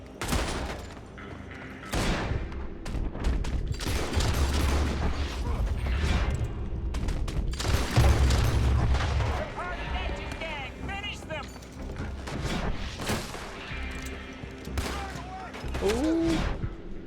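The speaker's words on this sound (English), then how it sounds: "Where are they shooting us from?" Gunfire from shooters in Red Dead Redemption 2 around Bluewater, Van Horn and Annesburg: scattered shots and clattering mechanical noises recur throughout at moderate loudness, with voices heard among them.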